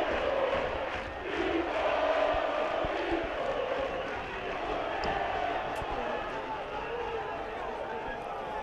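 A football crowd at an Argentine second-division match between Flandria and Villa Dálmine keeps up a broad, roaring ovation with steady cheering and chanting, a commentator speaking over it the whole time.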